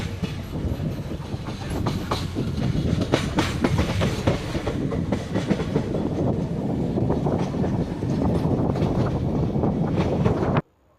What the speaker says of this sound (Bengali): এই মুহূর্তে আমাদের ট্রেন এসে পৌঁছালো ঘোষকাডাঙ্গা রেলওয়ে স্টেশন